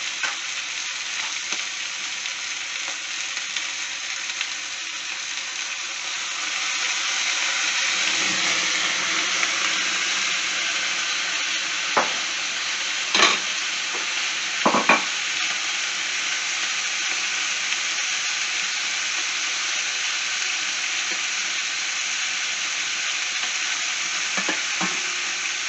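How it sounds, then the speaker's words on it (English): Stuffed beef paupiettes sizzle and fry steadily in a pan during flaming, a broad continuous hiss that swells partway through, with a few brief clinks and scrapes. "We will now flame the stuffed beef."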